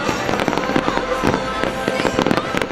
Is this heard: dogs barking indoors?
no